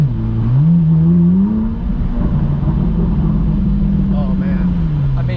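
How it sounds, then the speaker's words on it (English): A Corvette C8 Z06 exhaust, stock with no aftermarket system, is heard from inside the car as a loud rising roar under acceleration, then a sustained deep drone that slowly eases off. "You can hear the exhaust inside the car without even having an aftermarket exhaust."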